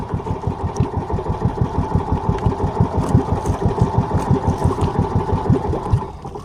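A fishing boat engine chugs in a fast, steady, loud rhythmic putter, close by, then sputters and dies away at the end, with no talking over it.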